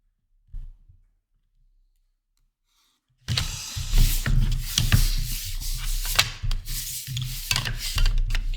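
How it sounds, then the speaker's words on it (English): Pencil strokes scrape across paper while lines are drawn with combined set squares for a technical drawing, a close, continuous rubbing and scratching that starts after a quiet pause and carries on steadily. "I can use my combined set squares to start drawing those lines"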